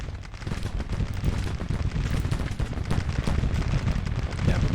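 Musket fire from a large Civil War battle in Grand Tactician, a continuous rolling crackle of many scattered shots over a low rumble, distant and unbroken throughout.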